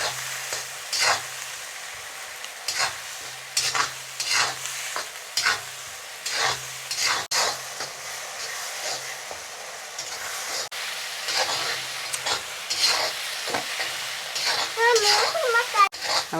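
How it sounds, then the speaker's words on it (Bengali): Onion and garlic frying in a pan with salt and turmeric for a hotel-style egg bhuna, sizzling steadily with repeated scraping stirs; a voice speaks intermittently over the cooking. "এখানেগুলো একটু ভেজে নিব।"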